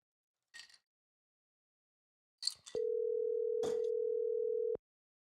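A telephone call tone during a call back, a steady electronic tone holding for about two seconds after a few brief clicks and handling noises, clear and fairly loud.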